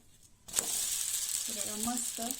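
Amboli, a rice pancake, frying on a pan makes a soft, continuous sizzle that begins abruptly as it is turned over, heard close up beneath a voice speaking over the second half.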